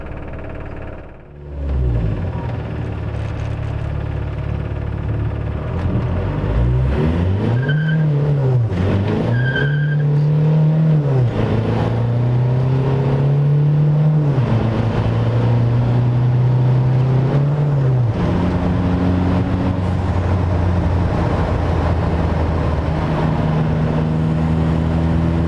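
An ALH TDI diesel-swapped 1982 VW Rabbit pickup drives close by, its engine loud and continuous, rising and falling in pitch with gear changes and throttle, with a brief whine near the start.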